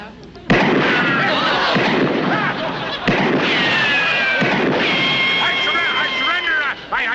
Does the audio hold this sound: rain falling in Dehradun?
no